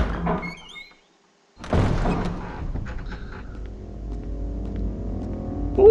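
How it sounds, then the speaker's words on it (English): A heavy door in the video game Resident Evil 2 thunks and creaks open after a brief silence, followed by a low rumbling ambience that carries on to the end. "Holy crap, a door that's open!"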